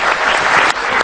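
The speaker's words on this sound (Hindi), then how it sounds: "बच्ची के लिए तालियां तो बनती हैं।" An audience in a television morning talk-show studio gives a girl a loud, dense round of applause that fills the whole second without a break.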